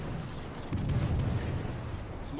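Naval guns fire on the French battleship Dunkirk in World of Warships, a deep booming salvo that erupts partway through and rumbles on in low thunder over steady engine and sea noise.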